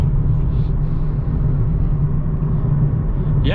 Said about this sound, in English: there's a bit of tire noise